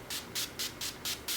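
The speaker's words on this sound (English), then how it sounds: "I'm going to then go in with the Urban Decay Slick Setting Makeup Spray." Six quick bursts of Urban Decay Slick setting makeup spray misted onto a face, evenly spaced hisses close up with no talking.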